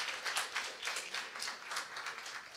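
Applause from a conference audience at a curatorial ethics panel, thanking the technical team: a steady patter of many hands clapping at moderate distance, holding even for the whole stretch with no voices over it.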